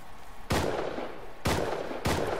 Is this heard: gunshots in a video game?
yes